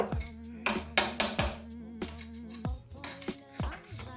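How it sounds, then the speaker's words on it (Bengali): A utensil beats eggs with Kashmiri red chili powder in a bowl, striking the bowl in quick, close metallic clinks and taps that come in irregular bursts. "ভালো করে আবারও ফেটিয়ে নেব এভাবে"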